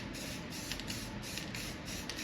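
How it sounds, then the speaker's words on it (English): An aerosol can sprays paint onto an arcade cabinet build in a series of sustained hissing bursts with short pauses between them, close and steady, with no talk. "I always try to spray my paint away from the edge, not into the edge"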